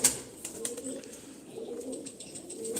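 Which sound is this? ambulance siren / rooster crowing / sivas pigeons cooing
sivas pigeons cooing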